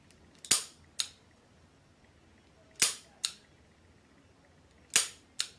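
A handgun dry-fired with snap caps for safe practice gives six sharp, dry metallic clicks in three pairs, close and crisp against a quiet room, with no talking.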